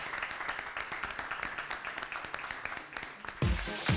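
A live audience applauds at a concert, a dense wash of clapping that swells louder near the end.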